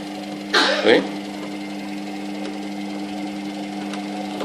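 A washing machine runs with its new belt just fitted. It makes a steady low motor hum with a faint tonal drone, and a brief noisy burst near the start.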